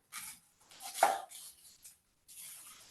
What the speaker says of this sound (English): I'm going to just chop up my onion